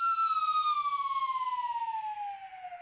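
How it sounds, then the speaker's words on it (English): An ambulance siren sound effect wails as a single steady tone slowly sliding downward in pitch, loud and alone with a faint pulsing wobble. "And then the ambulance comes."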